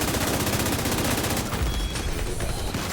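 Dense rapid gunfire from a shooter video game, continuous bursts of automatic weapon fire filling the whole stretch, loud and close, with a deeper impact thud near the middle.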